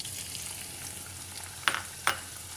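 Onions and green chillies fry in hot oil with a soft, steady sizzle, broken by two brief sharper crackles or spoon scrapes near the end.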